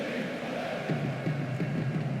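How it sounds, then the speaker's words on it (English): A large stadium crowd in a PES 2009 Champions League semi-final between Juventus and Lyon hums as a steady, distant roar, with faint rhythmic chanting pulsing through the murmur. "The crowd close to the pitch makes for a good atmosphere."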